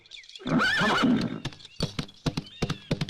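A horse gives a loud, close whinny, followed by hooves clip-clopping in a quick, uneven rhythm.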